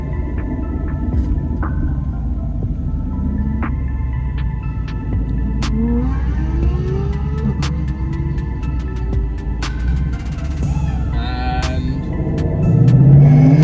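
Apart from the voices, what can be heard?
Ford Mustang and Aston accelerating hard on airfield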